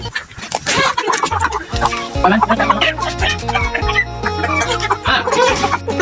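Chickens cluck and squawk continuously up close, a busy flock with overlapping calls and some background movement.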